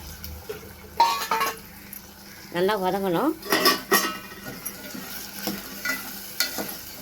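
Turkey berries go into a hot pan and get stirred and sautéed for a sundakka kulambu, with a ladle scraping and clinking against metal in short bursts over a faint sizzle. A voice talks briefly between the stirring.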